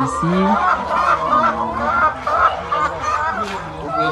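Laying hens cluck and squawk in a dense, busy flock inside a poultry house, with a voice speaking over the steady clamor.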